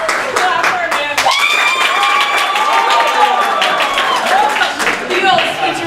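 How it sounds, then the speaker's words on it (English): An improv theater crowd claps loudly and continuously for a performer, close rapid handclaps blended with whoops and cheering voices throughout. "Clap for Amanda."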